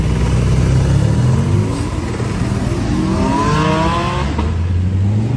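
A Ferrari Purosangue engine revs loudly and continuously, its pitch sweeping up and down through rising and falling throttle passes under a steady roar, close and dominant with no voices.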